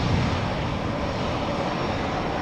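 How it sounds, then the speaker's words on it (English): A Cathay Pacific Airbus A350-1000 departs Amsterdam Schiphol Airport, its jet engines giving a steady, broad roar at a moderate distance that holds level throughout. "On its way to Hong Kong, the A350-1000 Cathay Pacific."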